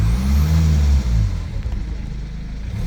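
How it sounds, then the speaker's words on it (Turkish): A BMW 320d N47 diesel engine at 217,000 km with the EGR blanked off revs loudly, its rumble climbing in pitch before dropping back to a rougher, lower idle. "Biraz gaz verelim."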